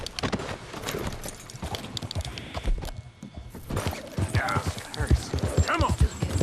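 In the Western game Red Dead Redemption 2, a horse gallops with rapid hoof clops and gives a whinny amid a struggle, loud and busy, with someone shouting over it.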